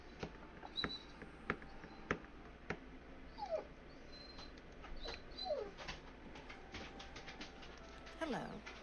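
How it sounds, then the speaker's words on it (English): Dogs in the video game Oblivion give a few short rising whimpers among scattered clicks and thumps, fairly faint under a low ambient hum. "Dogs."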